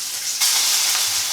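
A salmon fillet flipped skin side down in a hot pan, a sudden loud sizzle that jumps up partway through and then holds as a dense, steady hiss close by.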